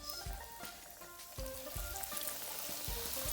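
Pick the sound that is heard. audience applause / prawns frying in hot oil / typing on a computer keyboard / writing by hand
prawns frying in hot oil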